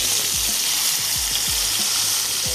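Chicken legs for tandoori chicken fry in a pan with a steady, close hiss of sizzling oil, while soft low knocks repeat underneath.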